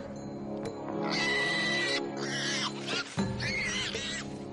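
A dragon calls with a subtly shifting pitch to lure a tiger, giving several close, harmonic, wavering cries in quick succession that rise and bend, sounding like a distressed animal.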